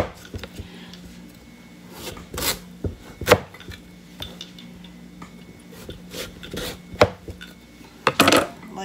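Pumpkin skin being broken and peeled down from the base by hand, heard as a series of close, crisp snaps and cracks over a soft background hum.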